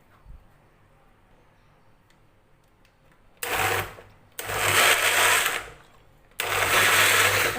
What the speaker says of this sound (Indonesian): Kemudian kita tinggal memblendernya.